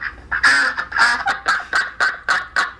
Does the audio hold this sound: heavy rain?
no